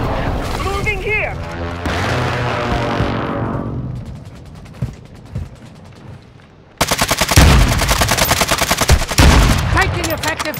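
Call of Duty Warzone gunfire in a PC match, loud close bursts of rapid automatic shots and single cracks, dropping away briefly before a dense volley returns, with in-game voices calling out over the fighting.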